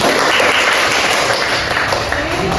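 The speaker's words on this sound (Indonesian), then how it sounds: "Tepuk tangan untuk kita semua." A school class applauds during a teaching practice lesson, a brief, loud and dense burst of many hands clapping close by.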